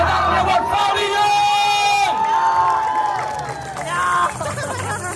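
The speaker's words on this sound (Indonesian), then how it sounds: "Kasih tepuk tangan buat Fabio" A large crowd at a live outdoor performance in Kota Tua cheers, whoops and shouts for Fabio, a loud, sustained roar of voices that swells and dips.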